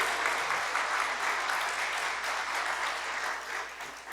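Sustained applause from a large church congregation fills the room during a year-end concert service, a dense steady patter of many hands, tapering slightly toward the end.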